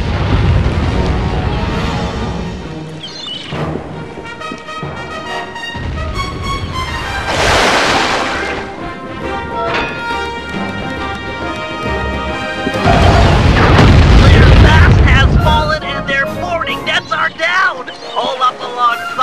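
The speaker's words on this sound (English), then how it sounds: "Turn our boat to give him a broadside with the cannons." Cannon broadsides fire from a pirate ship in the PS3 video game Sly 3: Honor Among Thieves, heard as loud booming rumbles and crashing blasts mixed with whooshing and game music, with a voice speaking between them.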